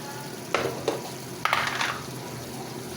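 Mutton and arbi frying in ghee are stirred in a pot: a low constant sizzle broken by three or four short scraping strokes of a spoon, close up.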